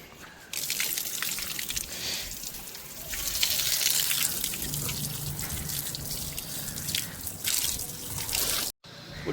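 Flowing water near the Kali Amman temple at Polikandy gives a steady, close splashing trickle and dribble, continuous and fairly soft, with a brief dropout near the end.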